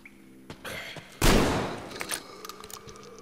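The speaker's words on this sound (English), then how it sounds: "shotgun." A single loud shotgun blast from Metro Exodus hits mid-clip and tails off into a rumbling decay, framed by scattered quieter in-game clicks and thuds.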